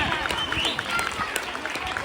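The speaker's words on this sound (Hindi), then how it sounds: "जोरदार तालियों की गूंज में" Schoolchildren at a school reading campaign clap for a student receiving a reading award, a close, dense patter of applause with a few sharper individual claps.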